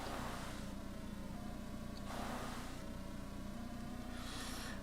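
Racing cars in the Sega Genesis game Lotus Turbo Challenge, a continuous buzzy engine drone that rises and dips in pitch as the car speeds through turns, steady and fairly loud with no talking.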